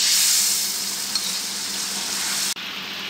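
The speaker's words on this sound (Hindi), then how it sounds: "इसके अंदर डाल दें, इस टमाटर से ही इसकी ग्रेवी बनना शुरू हो जाएगी।" Halved tomatoes drop into a karahi gravy and sizzle loudly and steadily with a bright, hissing crackle, briefly cut off near the end before resuming, with no voices.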